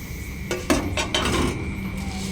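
Dishes and cutlery clatter close by inside a Tata 1512 truck cab, with a few sharp clinks and knocks in quick succession over a steady background hum.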